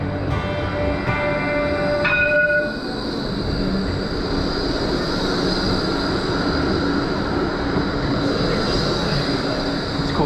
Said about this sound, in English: there's a tram coming and I didn't want to get in its way